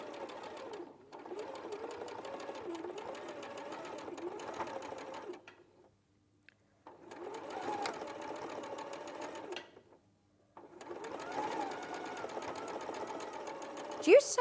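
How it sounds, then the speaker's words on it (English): A sewing machine runs in three steady bursts of rapid stitching through fabric, separated by short pauses, with people talking over and between the runs. "Do you sew over your pins, Sallieann?"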